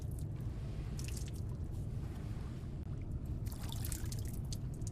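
Water splashing and dripping during ritual hand washing in the horror video game Silent Hill f, a soft, continuous wet trickle over a low, steady rumble.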